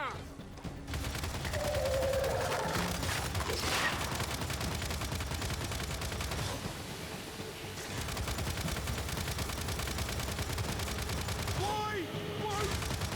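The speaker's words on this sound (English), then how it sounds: "now we're gonna get on the turret, and we're just gonna shoot" Sustained turret gunfire in the video game Gears 5, a dense continuous stream of rapid shots running almost the whole length with loud booming impacts, and a voice speaking briefly over the barrage.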